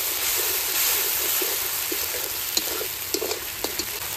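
Spice paste with dried red chili frying in hot oil for a thin fish curry, a steady close sizzle broken by scattered scraping and clicking from stirring.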